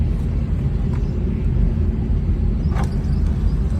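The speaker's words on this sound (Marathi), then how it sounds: "आज सकाळ सकाळी गाडी बाहेर काढलोय." A Tata Nano car is driven in the morning, heard as a loud, constant low engine and road rumble from inside the car, with one or two faint brief knocks and no talking.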